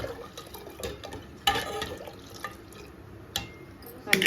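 Ground pepper powder is stirred into rasam with a spoon, giving wet, liquid stirring and sloshing sounds in uneven bursts, close by, while a voice talks underneath.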